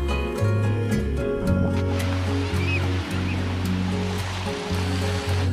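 Ocean surf at Parangtritis Beach, a steady loud wash of breaking waves with low rumbling swells throughout, heard close and continuous without talk.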